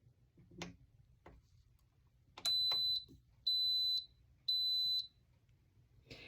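Three loud, high electronic beeps, each about half a second long, evenly spaced, from an appliance making Greek yogurt, preceded by a few faint clicks of the start button being pressed.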